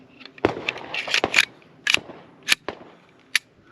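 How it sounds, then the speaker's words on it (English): A pistol slide being put back onto the frame after its spring, heard as a series of sharp, close metallic clicks and snaps at an irregular rhythm. "putting the spring back on, putting the slide back on."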